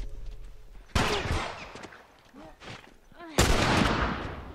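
Gunfire in The Last of Us video game: two loud, sharp shots about two and a half seconds apart, each followed by a ringing decay, with someone speaking briefly in between.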